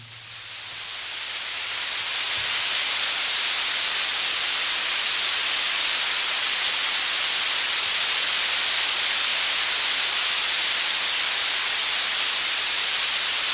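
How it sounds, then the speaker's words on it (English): Continuous loud static hiss from a radio telescope signal, steady and broad like white noise, swelling in over the first seconds and then holding unchanged. "this is just a recording of the sort of signal we pick up with that telescope"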